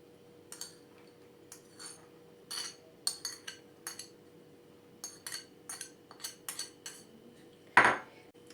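Cheese, meat and porridge set onto a plate one portion at a time, giving scattered light clinks and taps of cutlery against dishes, spaced and fairly close, with one sharper clatter near the end and no talking.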